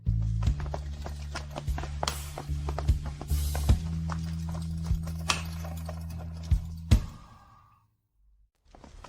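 Horse hooves clip-clop steadily as a horse-drawn carriage travels, a close, rhythmic clatter over a low rumble, before it suddenly cuts off into near silence.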